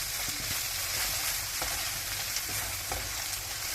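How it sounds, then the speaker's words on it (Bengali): Ground cumin, turmeric and coriander sautéing in a pan for a rohu and radish curry, a soft continuous sizzle with occasional light scrapes of stirring, fairly quiet, no voices. "একটু জিরার গুঁড়া আমি ওটার সাথে কষিয়ে নিলাম"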